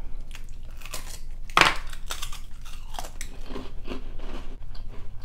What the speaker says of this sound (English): I'm about to try the big Cheez-It by itself and see if it tastes like Cheez-It.